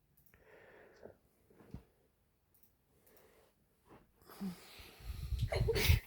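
A single sneeze bursts out loud and close near the end, after several quiet seconds of soft breaths and small sounds.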